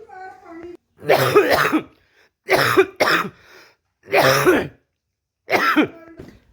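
An elderly woman coughs in five loud, harsh bursts spaced about a second apart, some with throat clearing, heard close by.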